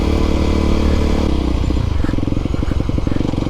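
Aprilia SX125 125cc motorcycle engine running loud and close, a steady drone that shifts into a rapid, pulsing throb partway through as the revs change.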